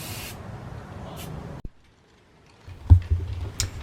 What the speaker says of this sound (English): I wound up spraying the entire thing satin black to keep it looking consistent.